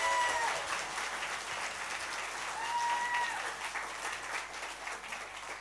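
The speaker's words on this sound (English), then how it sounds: "You can clap for that." Audience at a trans rights event claps in a moderate, continuous wash of applause, a bit distant and fading slightly toward the end, with faint voices in the crowd.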